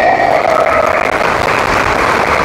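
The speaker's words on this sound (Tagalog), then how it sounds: "Grabe po yung inyong palakpak sa Panginoon." A church congregation applauding during a sermon in Baclaran, loud dense clapping sustained steadily throughout the short stretch with no pause.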